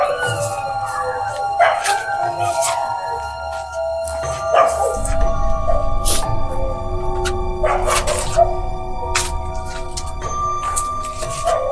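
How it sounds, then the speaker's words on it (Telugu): Several dogs bark and howl late at night in a village near an old royal fort, their drawn-out howls layered over a steady background hum, continuing throughout at moderate distance. "ఘోరంగా అరుస్తున్నాయి."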